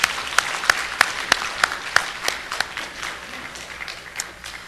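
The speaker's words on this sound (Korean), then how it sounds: "여러분들 격려하는 박수 한번 치면 어떨까요?" Church congregation clapping in encouragement for newly joined members. The claps start out sharp and distinct, then soften into a fading patter of scattered hand claps over about five seconds.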